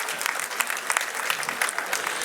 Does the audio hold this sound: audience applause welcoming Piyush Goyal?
yes